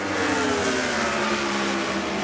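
An Indy race car engine at Charlotte Motor Speedway drones loud and continuous from the in-car view, its pitch easing slightly as the driver lifts off the throttle going into corners, with no talk.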